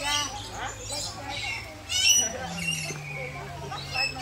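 A lory squawks inside a tropical aviary at Cebu Safari in the Philippines, giving several harsh, nearby squawks and chatters over a low background hum, with voices faintly present.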